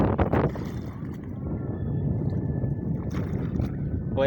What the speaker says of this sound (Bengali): নৌকা চালাচ্ছে।